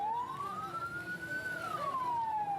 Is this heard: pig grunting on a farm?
no